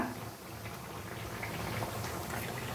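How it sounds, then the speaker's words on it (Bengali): Grass pea lentil fritters fry in hot oil with a dense, even bubbling sizzle, close and steady, with no talk over it. "আর এদিকে ভাজতেছি খেসারির ডালের বড়া"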